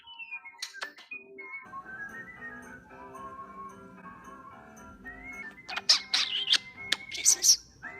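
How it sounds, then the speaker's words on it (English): A pet bird chirps and whistles in a run of short, high calls indoors, clustering into louder, sharper bursts near the end, with faint background noise and a person's voice underneath. "Oh my God, is that a bird?"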